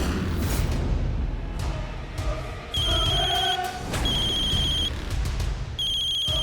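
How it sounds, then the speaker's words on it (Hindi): Telephone ringing in a home, three bursts of a repeated electronic bell-like trill over a background music score. "हमारे उनका फोन आया,"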